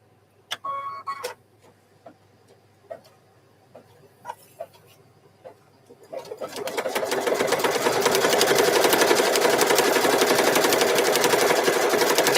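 A few sparse clicks and taps give way at about six seconds to a sewing machine that speeds up into loud, continuous rapid stitching along the placement line of a quilted mug rug.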